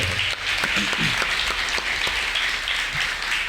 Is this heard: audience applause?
yes